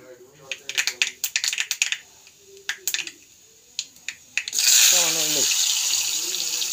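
Mustard seeds crackling and popping in hot coconut oil for a sambar tempering, a quick run of sharp pops that gives way to a loud, steady sizzle.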